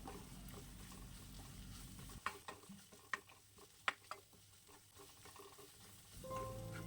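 Mint leaves being stirred in a pan for vada curry, a few sharp scraping knocks of the spoon against the pan over a quiet, low sizzle, with a louder burst of activity at the end.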